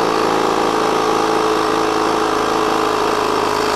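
A portable tyre inflator pumping air into a bike tyre runs with a steady, loud mechanical drone and buzzing hum that stays constant throughout.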